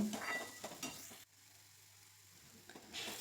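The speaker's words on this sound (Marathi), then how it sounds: "लाल तिखट मिरची पावडर टाकते आणि सगळे मसाले छान असे एकजीव करून घेते सगळीकडे मसाला लागेपर्यंत हलवते" A spoon scrapes and stirs red chili powder and spices in a frying pan with a soft sizzle, a few clinks against the pan, a pause, then more stirring resumes.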